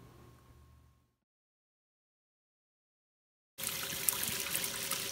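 Tap water running into a flask in a lab, a steady broadband rush starting abruptly after a quiet stretch and continuing loud to the end; faint room noise precedes it.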